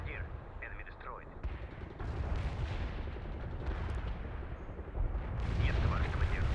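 Artillery barrage striking a target in the World in Conflict strategy game, heavy rumbling explosions and booms rolling continuously at moderate distance, with voices speaking over the blasts.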